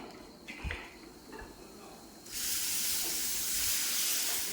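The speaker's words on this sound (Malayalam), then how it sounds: "നമുക്കിനി ഇതിലേക്ക് വെള്ളം ഒഴിച്ചു കൊടുക്കാം." Water poured into hot fried masala for a fish curry, setting off a loud, steady sizzling hiss that begins partway through and fills the rest, after quieter pan clatter.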